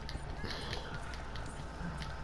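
Horse hooves clip-clopping at a run in the online Western video game Red Dead Online, a steady close patter over dense game ambience.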